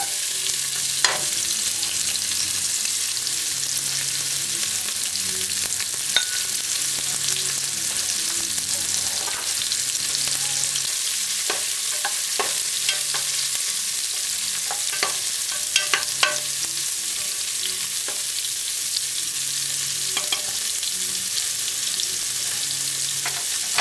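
Chopped vegetables for Jamaican stewed peppered steak frying in smoking-hot oil, a loud continuous sizzle with repeated spatula scrapes and clicks of stirring throughout.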